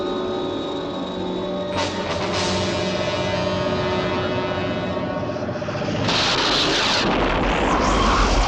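A target is destroyed in an explosion in a Gerry Anderson SHADO UFO episode: a sustained roaring blast with a sharp burst midway and a louder rumbling surge near the end.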